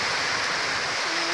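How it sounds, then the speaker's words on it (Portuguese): Rain falls steadily outside a home, a dense, even hiss of continuous noise with no gaps across the short span. "Tá chovendo."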